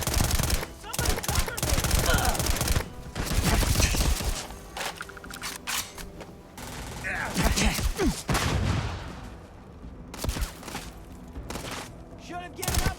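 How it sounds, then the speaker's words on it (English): Video game gunfire aimed at a boss enemy, bursts of rapid shots and thumps mixed with a busy game soundtrack, loud and sustained in waves with voices talking over it. "Putting shots in the boss is good."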